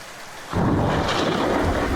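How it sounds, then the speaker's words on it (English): Rain and a rumbling roll of thunder at the Space Center in Kerbal Space Program break in suddenly after near silence, then hold as a loud, steady storm wash with no talking. "It's raining back at the Space Center."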